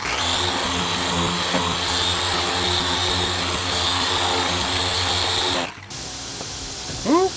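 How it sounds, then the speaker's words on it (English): A large rotary polisher hums steadily as it polishes the paint on a neglected E39 wagon, then cuts off sharply near the end, leaving quieter room sound. "Rather large polisher for a small area."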